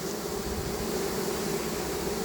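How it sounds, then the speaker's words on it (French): A honeybee swarm hums inside a cardboard box, a dense, continuous buzz that stays steady and close for the whole moment. "On voit qu'il y a plein d'abeilles aussi dans la carton qui battent le rappel"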